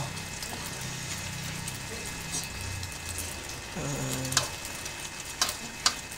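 Dried salted fish (tuyo) frying in a pan with a steady broadband sizzle throughout, a few sharper pops and crackles toward the end, and faint voices in the background.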